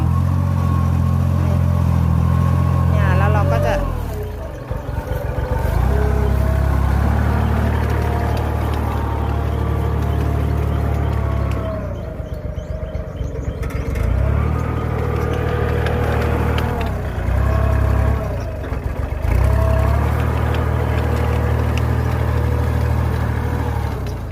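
A loud, close walking tractor engine with a rotary tiller chugs and rattles steadily while preparing soil, dipping in a few spots as it labors, with clattering from the tiller; no voices.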